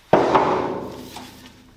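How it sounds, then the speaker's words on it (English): A single sharp hammer strike rings out close by, knocking loose a seal on a Mitsubishi Evo 4G63T engine, its metallic impact decaying over a second or so. "Time for the Thor hammer action."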